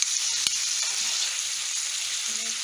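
Finely chopped onion frying in a pan makes a continuous soft sizzle with one sharp click near the start; no voices.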